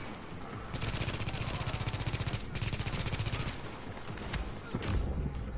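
Enemy gunfire in Tom Clancy's The Division, rapid automatic bursts rattling in long rhythmic volleys for several seconds, with a brief pause and then a final shot, as a player exclaims in alarm underneath.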